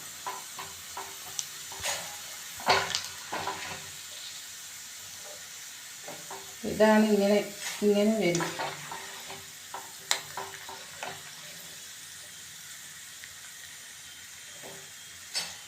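Raw plantain chips frying in hot oil while being stirred and scooped: a steady low sizzle with a burst of scraping and clattering in the middle, and a few brief spoken words.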